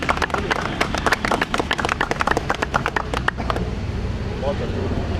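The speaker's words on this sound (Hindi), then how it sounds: "हाँ, ताली बजा दो, तालियां।" An outdoor crowd at a Bharatiya Satya Vijayi Party political rally claps in a lively burst of close, dense applause that fades out after a few seconds, leaving street noise behind.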